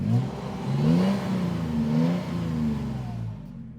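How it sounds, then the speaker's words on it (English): A 2023 Toyota 4Runner's naturally aspirated V6 revving from idle, with throaty rising and falling engine swells heard close by and no talking. "how throaty this V6 sounds"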